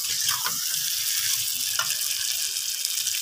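A little water is poured into a Bengali-style potato curry (alur kosa) in the pan, making a steady, even hiss and spatter that continues throughout.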